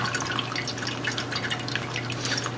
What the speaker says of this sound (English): all the fat dripping out of that.